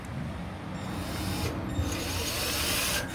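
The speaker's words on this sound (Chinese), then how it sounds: "这个先钻孔。" A power drill bores a hole during a DIY electric motorcycle modification, a continuous grinding whir held for a few seconds up close, with no speech.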